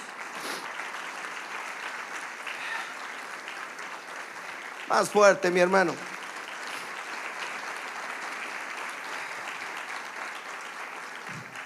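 Sustained applause from a congregation at a church service continues throughout, with someone briefly speaking over it partway through.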